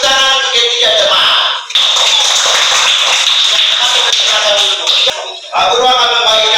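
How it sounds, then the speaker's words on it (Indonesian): A classroom of pupils clapping for three classmates, a loud, close burst of many hands slapping in quick irregular rhythm, with a teacher's voice heard briefly at the start and end. "berikan tepuk tangan untuk ketiga teman"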